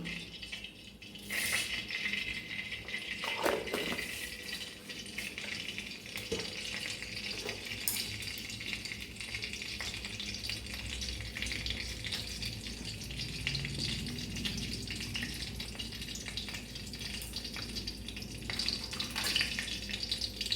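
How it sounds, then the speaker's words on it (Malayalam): Mustard seeds fry in hot coconut oil for a Kerala-style beef curry, a continuous close sizzle with scattered crackles and occasional faint clinks of a utensil, no talking. "കടുക് പൊട്ടാറായി"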